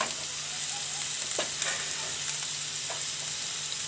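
Onion, garlic and green chillies fry in a pan with a steady close sizzle, broken by a few soft spoon scrapes as the mixture is stirred.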